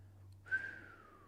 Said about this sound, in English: I can't even whistle. I'm so dry right now.